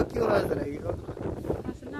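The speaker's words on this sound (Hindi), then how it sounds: "इतनी तेज हवा चल रही है" Strong wind buffets an outdoor microphone in a steady, rumbling roar, while someone talks over it nearby.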